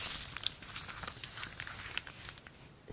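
A plastic bag holding diamond painting drills is handled, giving faint crinkles and soft rustles with a few sharper crackles, close and quiet, with no talking.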